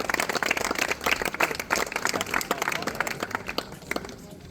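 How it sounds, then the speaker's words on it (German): Spectators at a turbo kart race in Wohlen clap in a brief round of applause, moderately loud and dense, thinning slightly toward the end. "Ein riesen Applaus für die Überhol GmbH."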